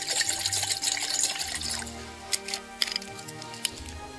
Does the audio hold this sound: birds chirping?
no